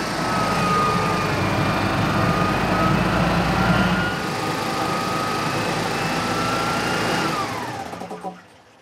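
A high-pressure compressor fills a cylinder toward 320 bar with a loud, steady mechanical drone, then slows down and winds to a stop as it shuts off near the end.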